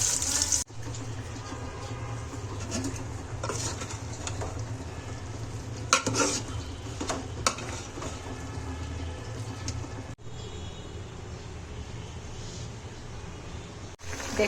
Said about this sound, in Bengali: আলু ভেজে নিচ্ছি প্রথমে।